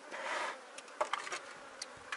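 Honeybees buzz around a hive colony during a super being added, a soft hazy hum rising and fading with brief closer passes, quiet and steady with no talk.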